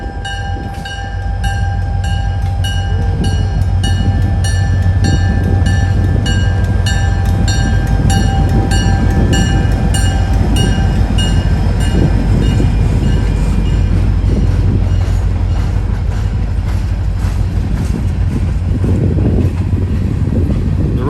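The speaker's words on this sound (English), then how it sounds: "So the train's gonna be coming through these trees at any time." A diesel locomotive running long hood forward hauls a train past nearby trees, a loud rumbling engine and wheels clattering steadily on the rails, with a continuous roar building up close and holding throughout.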